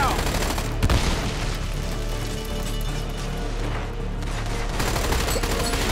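Combat in the shooter Army of Two: The Devil's Cartel, with a grenade blast and heavy bursts of gunfire forming a loud, dense barrage, while voices shout over the fighting.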